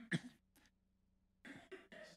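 A single sharp cough close by, followed a moment later by a brief throat sound and then muffled talking.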